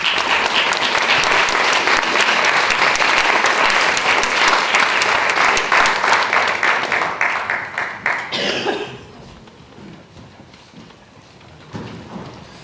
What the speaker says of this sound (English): Thank you, Kevin. Round of applause.